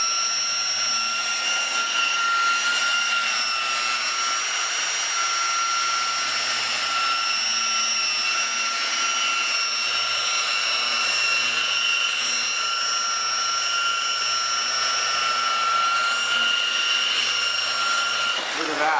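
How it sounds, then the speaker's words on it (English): A rotary polisher with a buffing pad runs at low RPM over car paint while removing epoxy overspray, giving a steady close whine with strong sustained tones throughout, and a brief comment is spoken over it. "I use it at a very low RPM. So, when you're buffing, this is all it's going to take."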